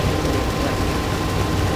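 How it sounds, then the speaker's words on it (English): A ship's underwater noise picked up by a hydrophone, a loud, steady broadband hiss and rumble with no distinct events, continuous from start to end. "this is the sound of one of the ship source signatures that"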